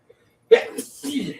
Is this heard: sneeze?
yes